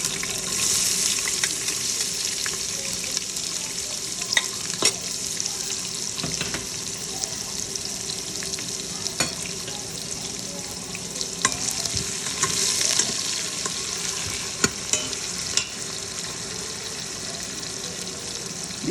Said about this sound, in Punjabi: ਸਾਬਤ ਜੀਰਾ ਆਪਣਾ ਬਰਾਉਨ ਹੋ ਗਿਆ ਤੇ ਹੁਣ ਆਪਾਂ ਪਿਆਜ਼ ਪਾ ਦਿੰਦੇ ਹਾਂ